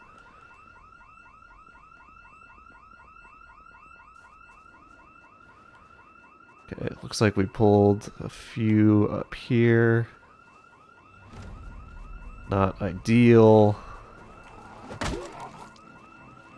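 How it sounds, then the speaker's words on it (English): A house alarm in the survival video game Project Zomboid rings steadily throughout, a repeating electronic tone that continues alone at first and then goes on under bursts of someone talking. "That's a long alarm."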